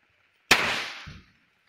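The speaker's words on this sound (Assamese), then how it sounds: "এইবিলাক বোমা এতিয়া জ্বলাই দিওঁ" A single firecracker set off during Diwali bursts with a sharp, loud bang that trails into a crackling, fading tail of about a second, with a softer secondary pop shortly after.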